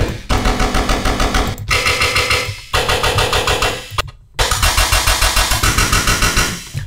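A heavy dubstep machine-gun bass patch built in the Serum synth fires in loud, rapid stuttering bursts, its dense growling pulses repeating in three long runs separated by brief gaps of silence.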